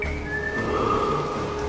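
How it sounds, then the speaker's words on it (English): A sharp, high whistle rises and holds over a soft, steady hiss like falling rain or wind, moderately loud and clear, with no talk. "a sharp whistle suddenly pierced the air."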